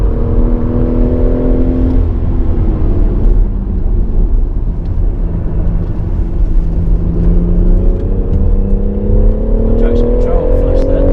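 A car on the Goodwood track drones loudly and steadily under throttle, its engine note slowly rising and falling, while a voice talks over the constant noise inside the cabin.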